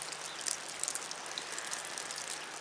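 Steady rain falls on a farm, a soft even hiss with scattered drops tapping nearby, faint and continuous with no voices.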